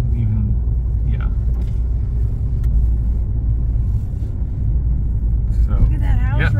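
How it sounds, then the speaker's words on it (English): A yellow car rolls through Harper's Ferry with a steady low engine rumble and road noise throughout, while people talk inside over it. "we're being lazy and driving the yellow car through Harper's Ferry"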